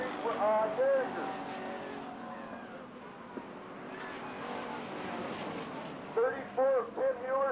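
Street stock race cars roar around the track at Lake Geneva Raceway during a fall race, a steady engine drone with rising and falling revs. A commentator talks over the noise throughout.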